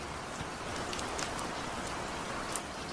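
Heavy cartoon rain pours down in a steady, dense hiss with scattered drop patter, unbroken and even throughout with no voices.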